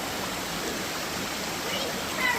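A waterfall pours in an outdoor spot in Ohio, a steady broadband rush of falling water filling the whole clip at even loudness, close and continuous with no clear talk over it.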